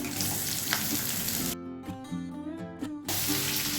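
Jackfruit seeds and potatoes sizzle loudly in a hot pan, a steady close frying hiss that briefly drops out in the middle before resuming.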